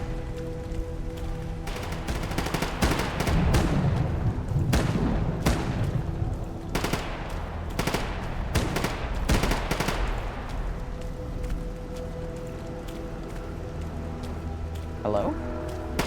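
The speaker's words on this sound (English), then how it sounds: "There's still gunfire going on." Distant gunfire crackles in the Stalker GAMMA video game, with bursts of rapid shots clustered in the middle of the stretch over a steady ambient bed, then thinning to sparse pops.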